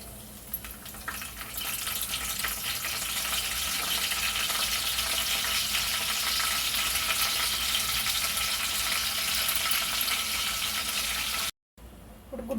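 Cumin seeds and curry leaves crackle in a couple of spoons of hot oil, making a loud, continuous hissing sizzle that holds steady for several seconds before a brief cut.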